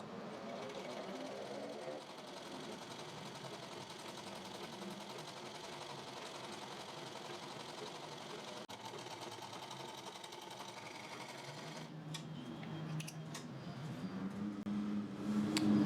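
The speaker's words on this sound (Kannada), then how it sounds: "ಈ ಪಟ್ಟಿದು ಒಂದು 1/4 ಇಂಚ್ ಅಥವಾ ಅರ್ಧ ಇಂಚದ ಬಟ್ಟೆನ ಈ ರೀತಿ ಫೋಲ್ಡ್ ಮಾಡಿ ಸಿಂಪ್ಲಿ ಇವಾಗ ಇಲ್ಲಿಗೆ ಈ ರೀತಿ ಸ್ಟಿಚ್ ಹಾಕಬೇಕು" A sewing machine runs steadily, stitching a folded quarter- to half-inch fabric strip onto a blouse neckline, with a continuous close whirr that slows near the end as a few clicks and handling noises break in.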